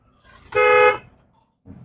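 A single short car horn honk, loud and close, with faint background noise before and after.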